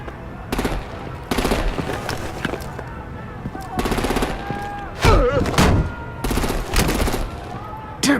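Video game gunfire and artillery in Batman: The Telltale Series: bursts of rapid machine-gun fire and heavy blasts crack in repeated volleys, with shouting voices between shots.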